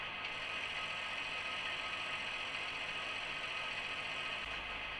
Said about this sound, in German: Funktion 10 – Kompressor.